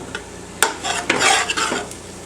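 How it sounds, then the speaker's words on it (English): A utensil stirs flour into reduced soy sauce in a pan for green bean casserole, giving quick close scraping strokes with a soft sizzle beneath and a few sharp knocks against the pan. "You want to add this in and stir it up really good so there's no lumps"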